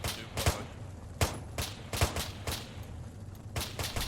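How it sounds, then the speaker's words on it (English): Gunfire in the military video game Arma 3: a close, loud fusillade of sharp shots in uneven bursts with rapid follow-ups, several spaced cracks over a few seconds and no talking. "Down, good shooting."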